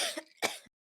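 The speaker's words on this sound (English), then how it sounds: "It's coughing." Two short, sharp coughs in quick succession, close and fairly loud, then silence.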